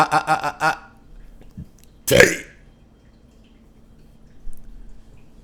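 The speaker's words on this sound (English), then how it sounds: "I burp in my own house." A few quick vocal sounds, then a single loud burp, followed by near silence.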